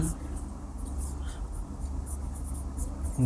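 Marker or chalk scratching on a board during an English grammar lesson, a continuous soft scraping texture with faint background hiss and no clear voice over it.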